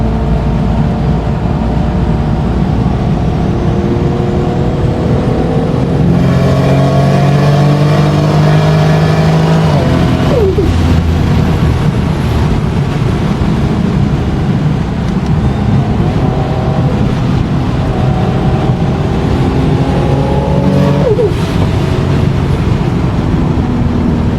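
A turbocharged Supra-style car built in Çorum, running about 0.8 bar of boost, drives loudly with engine tones rising through gear changes and a heavy, constant rumble, with no talk.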